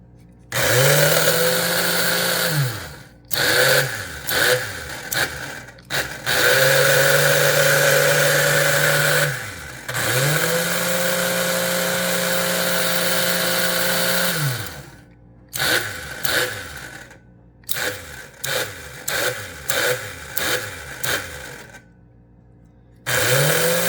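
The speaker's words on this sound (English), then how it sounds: "let's show you the operation of the up and down of the clamp and the closing and opening of the clamp itself" Electric motor of an American Flyer 752 Seaboard coal loader toy train accessory whirring as its clamp moves up and down and opens and closes, long steady hums broken by short stop-start bursts, close and loud.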